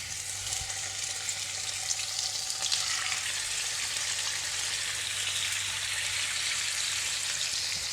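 Baby cuttlefish sizzling in garlic-infused oil in a pan over raised heat, a steady close crackling hiss with a constant low hum beneath, no one talking.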